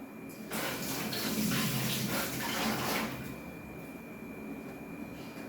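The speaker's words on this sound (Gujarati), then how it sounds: "પહેલાં હું હાથ ધોઈ લઈશ તો ચોટે નહીં" Tap water runs briefly while hands are washed in a kitchen, a soft rushing splash for about two and a half seconds before fading to quiet room noise.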